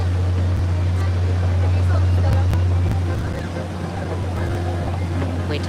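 A party boat passes on the river in Paris, its engine a steady low drone up close, mixed with wind buffeting and faint voices and music carried from the deck.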